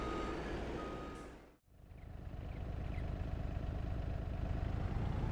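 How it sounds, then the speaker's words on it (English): Farming Simulator 22 game audio: a truck with an autoload pallet trailer arrives, with a steady engine rumble and repeated reversing beeps. The sound cuts out briefly, then returns loud and continuous with no talking. "We finally have the autoload trailer for the pallets coming up."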